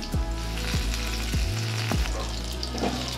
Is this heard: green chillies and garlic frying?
yes